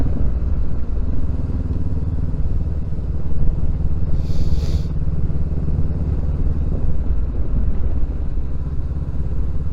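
A 2023 Honda CB500X motorcycle riding over gravel, its engine a steady loud drone throughout with tyre crunch and rumble beneath, and a brief brighter clatter near the middle.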